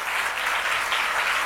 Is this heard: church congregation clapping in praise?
yes